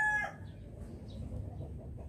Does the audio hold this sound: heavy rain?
no